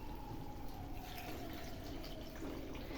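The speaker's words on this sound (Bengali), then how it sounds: "মশলার মধ্যে গরম জল দিয়ে দেবো।" Hot water poured into cooking masala for chicken kofta curry, a continuous quiet splashing pour, close but faint.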